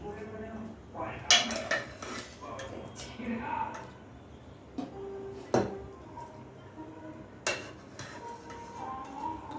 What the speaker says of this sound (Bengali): এবার আমি মাংসটা তুলে নিচ্ছি